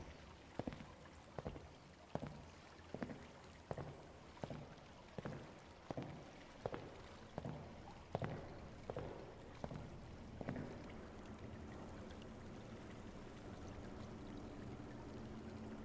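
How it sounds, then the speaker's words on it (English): Water drips from a slide in the Pools video game, about a dozen distinct plinks at a steady rhythm, followed by a quiet watery ambience. "There's water dripping from the slide."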